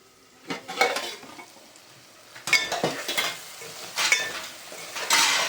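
Masala for a dry fish curry fries in a pan, a close sizzling hiss broken by repeated bursts of stirring and scraping against the metal, loud and uneven, with no one speaking.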